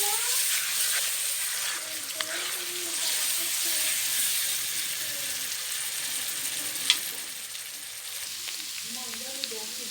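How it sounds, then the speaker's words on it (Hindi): Onions fry and brown in a pan while being stirred with a spoon for a fish-head curry, making a continuous close sizzle with occasional light scrapes and clinks. "ये देखिए प्याज ब्राउन हो रहे हैं। अब इसको हमें चम्मच चलाते जाना है"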